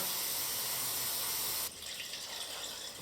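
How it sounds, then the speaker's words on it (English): Rinse water is poured into a film developing tank during home E6 slide film processing, a steady rushing stream like a running tap that shifts to a softer, thinner flow about halfway through. "again, just a real short rinse with some water."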